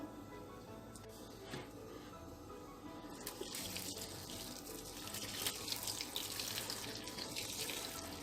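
Hot water poured over fresh grape leaves being brined, a steady close rushing and splashing of water that swells partway through and continues without talking.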